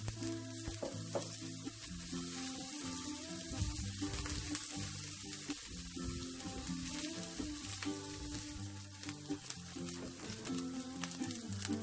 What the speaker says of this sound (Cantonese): 爆一爆呢個蝦乾或者蝦米